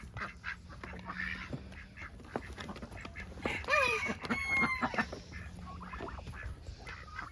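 Farm ducks quack repeatedly in a small flock, close and fairly loud, with a few rapid nasal calls over faint outdoor background noise during evening chores.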